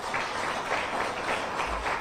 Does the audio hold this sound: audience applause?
yes